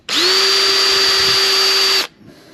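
Power drill driving pan head stainless steel screws into a rear rack platform on a Lectric XP trike, one steady high whine lasting about two seconds, close and loud, then stopping abruptly.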